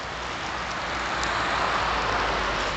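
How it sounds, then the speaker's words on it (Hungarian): Rain beginning to fall outdoors, a steady broadband patter and hiss that holds even throughout, close and fairly loud, with no voices. "ahogy megyünk, elkezdett esni az eső"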